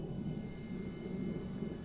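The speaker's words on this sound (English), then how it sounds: "Oh, my engine sounds horrible on my jet." A military jet in a flight simulator game runs rough, a steady low engine rumble and drone with a faint high whine on top, continuous and moderately quiet without speech.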